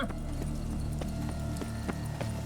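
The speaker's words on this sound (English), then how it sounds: "It's just a little horse with a thing strapped on its head." Horse hooves clip-clop in The Witcher 3 video game, a steady rhythmic trot of close, clear hoof strikes over a constant low ambient bed, with no voices.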